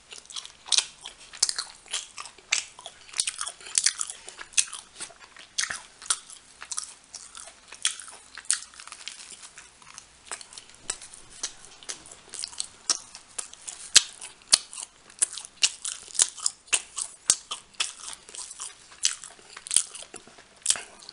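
English muffin pizza burgers are bitten and chewed close to the microphone, with dense, crunchy, wet chewing that continues steadily and carries no talk.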